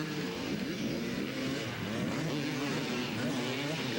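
Yamaha motocross bikes racing at a 1992 county fair event, engines droning steadily and revving throughout, loud and continuous with a crowd-like wash beneath.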